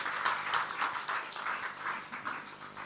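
Crowd applause for the national coordinator at a youth political gathering in Kisangani, with rhythmic clapping swelling and easing in regular bursts over a few seconds.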